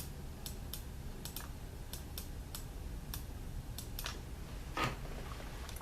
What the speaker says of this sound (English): type into the calculator 78 divided by negative 13